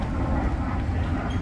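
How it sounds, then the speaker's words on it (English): A free tram shuttle rolling through the Ohio State Fair grounds, a low rumbling engine-and-wheel drone passing close by, steady and moderately loud for a brief moment without speech. "there is a free tram shuttle that runs throughout the fairgrounds for the duration"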